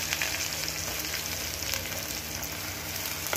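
Onions frying in hot oil with popped mustard seeds for a prawn curry, a dense, even sizzle that holds steady throughout, close and unbroken by any speech.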